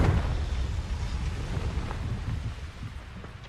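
A Confringo fire spell explodes in the Hogwarts Legacy video game, a dense, rumbling blast that rolls on as a sustained roar and slowly fades over a few seconds.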